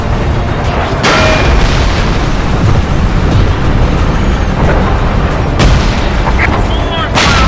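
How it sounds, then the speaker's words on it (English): Artillery shells crash down in Frontlines: Fuel of War, loud booms punching through a continuous roar of battle noise, with voices shouting over the din. "That's artillery coming in your position."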